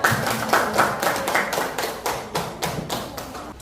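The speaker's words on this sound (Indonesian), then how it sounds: "tepuk tangan untuk kelompok" A school classroom of ninth-grade students claps for a presenting group, a rhythmic burst of hand claps with regular pulses, close and fairly loud, with no talk.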